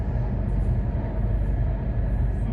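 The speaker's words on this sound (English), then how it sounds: "Welcome aboard this Great Western Railway service to Cardiff Central" A Great Western Railway train bound for Cardiff Central rumbles steadily along the rails, heard from inside the carriage as a dense, continuous, low roar with a faint higher hiss, without talking.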